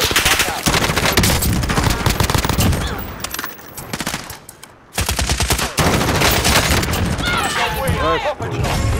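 Rapid bursts of automatic gunfire and shots from a video game firefight, loud and dense, with players talking and shouting over much of it and a short lull midway.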